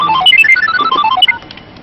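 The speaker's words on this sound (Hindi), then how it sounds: "इस वक्त किसका फोन आ गया?" A melodic phone ringtone chimes in a quick run of bright electronic notes, fairly loud, then cuts off, leaving faint background noise.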